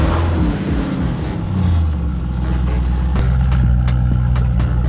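A widebody Lamborghini Urus engine revving: a loud, close, deep exhaust roar that swells and settles into a strong rumbling drone, with a few sharp crackles near the end.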